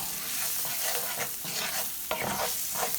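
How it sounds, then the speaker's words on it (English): Onion and garlic are stirred in hot oil for daal, with a loud, continuous sizzle and spatula scrapes against the pan close up. "Fried oil. Now, we're gonna stir it all up. The onion, the garlic."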